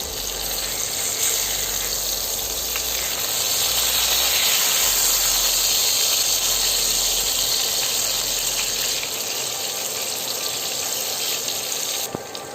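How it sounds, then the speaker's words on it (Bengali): Slices of bottle gourd fry in a pan of oil, giving off a loud, continuous hissing sizzle that holds steady and close throughout with no pauses. "এখন আবার এই পিঠে আমি 3-4 মিনিট ভেজে নেব।"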